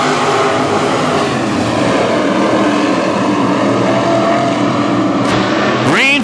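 WISSOTA Midwest Modified race cars roar off the green flag for a heat race at Granite City Speedway, a loud, dense wall of engine noise holding steady throughout, with a rising whine near the end.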